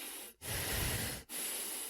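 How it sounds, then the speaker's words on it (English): A person breathing close to someone's face, two long, loud, hissing breaths with a short gap between them, very near and with no other sound. "you're breathing kind of in my..."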